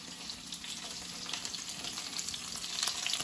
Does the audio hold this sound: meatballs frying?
yes